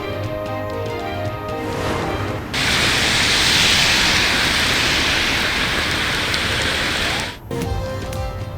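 Heavy downpour over Balakot, Naran and Kaghan in northern Pakistan, a loud, dense, steady hiss of rain that swells even stronger through the middle stretch before easing back, with no voices.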